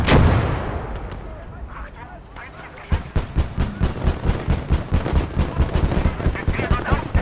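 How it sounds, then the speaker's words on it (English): In the Kampfgruppe war game, a big booming blast from a heavy gun rolls out and fades. A steady, rapid stream of loud, thudding shots follows and keeps going, and voices come through now and then. "That was a heavy gun."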